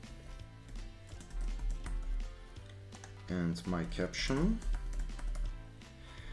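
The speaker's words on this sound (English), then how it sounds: "Then typing my title" Computer keyboard typing as a title and caption are entered, soft rapid key clicks running under a person talking and background music.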